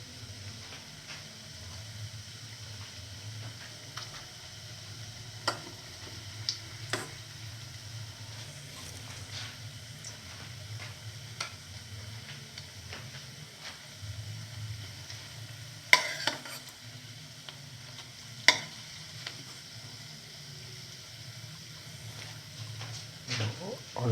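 Cottage cheese and fenugreek leaf fritters fry in a pan with a low, steady sizzle. Occasional clinks and stirring knocks rise above the hiss, and a few sharper taps come near the end.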